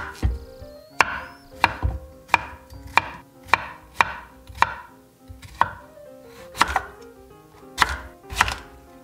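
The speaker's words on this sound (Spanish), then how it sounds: "Lo primero que vamos a hacer es lavar cada ingrediente y cortarlos adecuadamente" A knife chops vegetables for a carrot smoothie, a series of about a dozen crisp, close knocks on a cutting board at an uneven, unhurried pace, with no talking.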